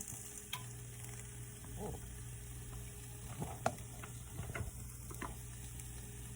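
Soft, steady sizzling of food cooking in a pan, with a few light clinks and scrapes of utensils over a low background hum.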